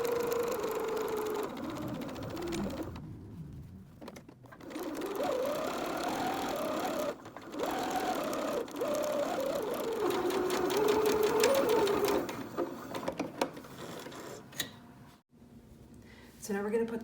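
A sewing machine stitches the hems of a cushion, its steady mid-pitched whir running continuously with brief pauses and speed changes, close to the microphone, with a voice speaking over parts of it.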